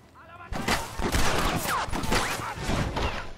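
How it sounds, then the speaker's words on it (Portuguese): Rapid bursts of gunfire from the Western video game Red Dead Redemption crack in quick succession, several shots overlapping with ricochet-like whines, loud and close, with a voice commenting faintly underneath. "Vários tiros aqui."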